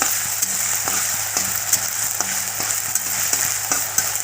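Potato pieces sauté in a pan for a fasting-day khichdi, with a constant close frying sizzle and regular soft stirring taps. No voices.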